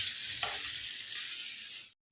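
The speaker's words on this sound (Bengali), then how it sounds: "তেলেতে পেঁয়াজ জিরে তেজপাতা ফোড়ন দিয়ে টমেটো দিয়েছি" Onion, tomato and ginger-garlic-green chilli paste sizzle steadily in hot oil in a Bengali home kitchen, a continuous close frying hiss that cuts off abruptly near the end.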